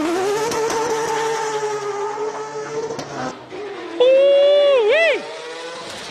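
Porsche GT3 Cup race car engine at a classic car event in Cape Town, a loud droning rev that climbs slightly and then drops away, followed by a voice shouting an excited exclamation.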